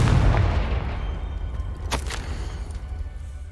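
A Confringo fire spell blasts in a Harry Potter video game, a heavy low boom at the start that rumbles and decays, followed by a couple of brief crackling bursts, with no talking.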